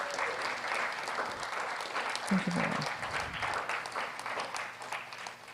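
Conference attendees at an afternoon plenary session give a round of applause, a soft, steady patter of many hands heard from a distance, while someone speaks briefly into a microphone over it.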